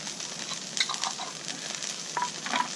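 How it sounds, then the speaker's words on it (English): Vegetables stir-frying in a pan with pickled garlic seeds, a steady close sizzle with light scraping and stirring clatter throughout, no talk. "I'm just going to stir fry what we've got there now"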